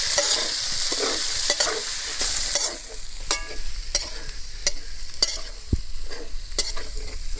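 Cabbage, onion, capsicum and green chili stir-fry in a hot pan, giving a loud sizzle that settles down, then repeated sharp spatula scrapes and clacks in an uneven rhythm.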